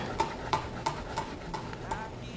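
A kitchen knife runs through fresh herbs, basil and garlic on a cutting board, making about six evenly spaced chopping taps, close and moderately loud against a soft background hiss.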